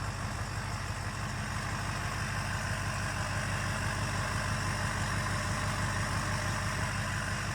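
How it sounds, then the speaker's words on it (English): LBZ Duramax diesel truck engine idling steadily just after startup, a loud, continuous low rumble with a rapid regular diesel clatter, close by and with no talk. "that's what a Duramax is supposed to sound like"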